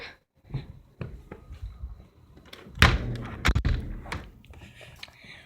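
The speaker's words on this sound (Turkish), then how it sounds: "Şu kapıyı da kapatayım ben ya." Door being pulled shut indoors, with scattered soft knocks and rustles leading to a loud thud and rattling clunks near the middle, then quieter handling noises.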